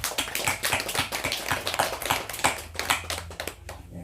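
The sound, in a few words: audience clapping to welcome newcomers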